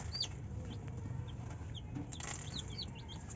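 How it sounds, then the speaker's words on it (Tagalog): A Rhode Island Red chicken clucks softly in a farmyard, brief scattered high clucks over a low rumbling background of ambient noise. "Yan pala yung bago kong Rhode Island Red."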